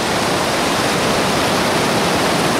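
Stream water rushing steadily beneath a bridge in a village setting, a loud, continuous broadband roar that stays even throughout with no breaks.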